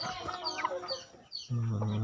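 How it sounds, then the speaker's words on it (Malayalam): A four-month-old native rooster clucks in short, nasal bursts close by, followed by a steady low hum. "ഇതൊരു 4 മാസമായ പൂവനാണ്."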